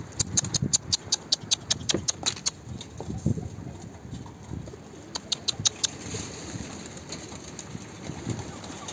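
A dolapçı breed pigeon coos close by amid a rapid series of sharp clicking or flapping taps, with low murmuring sounds underneath.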